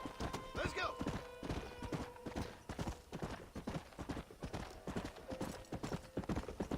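Horse hooves clip-clop in Red Dead Redemption, a steady, close rhythm of hoofbeats with an occasional whinny, while someone talks over the riding.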